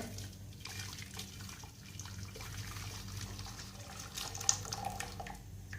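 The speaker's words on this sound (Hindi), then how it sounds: "चाशनी को आपने छान के शामिल करना है।" Warm jaggery syrup poured through a strainer into a large pot, making a continuous close trickling, splashing liquid flow with faint drips, no voices.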